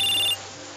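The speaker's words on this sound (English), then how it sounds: "your phone ringing suddenly in your pocket" A phone ringtone trills loud and close for about a third of a second, then cuts off abruptly, leaving a quiet hum. It plays in a horror video game about house hunting.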